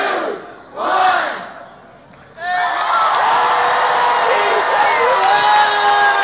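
A large crowd cheers and yells loudly at a dance battle final, rising to a sustained roar after a brief shouted outburst, with an announcer's voice heard over the noise.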